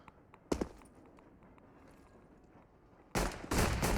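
Pistol shots from a P2000 in Counter-Strike during a professional esports match: a single sharp report early, then a dense burst of loud rapid shots near the end over low game ambience.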